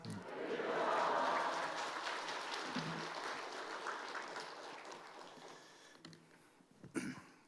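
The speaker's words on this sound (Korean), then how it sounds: "할렐루야 하면서 크게 환호를 하면서 우리가 맞이하도록 하겠습니다" A church congregation at a Sunday afternoon service cheers and applauds to welcome a visiting pastor, a broad wash of clapping and voices that swells early and slowly fades, ending in scattered claps.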